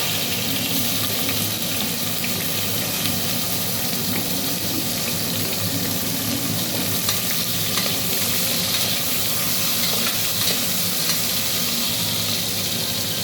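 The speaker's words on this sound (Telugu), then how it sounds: "బగారా ఐటమ్స్ వేసుకున్న తర్వాత ఇందులో పచ్చిమిర్చి ఉల్లిగడ్డ వేసుకుందాం" Green chillies and onions frying in hot oil with whole tempering spices for tomato rice: a loud, dense, continuous sizzle with stirring throughout, close by and without any talk.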